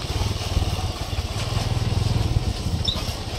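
A motorcycle engine drones steadily with a fast, throbbing pulse while riding along a rough, bumpy road, loud and close throughout with wind noise on top.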